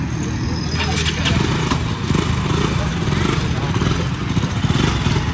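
RX motorcycle engine running steadily with a rough, throbbing exhaust note, loud and close, while people talk over it.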